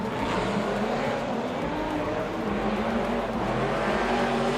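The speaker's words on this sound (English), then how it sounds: "Wow, but listen to those beautiful cars. Make some beautiful noises." Drift cars at a Drift Kings Asia Series round in Malaysia roar continuously near the microphone, a V8 revving high on the limiter as cars slide past, with a dense, unbroken mechanical drone.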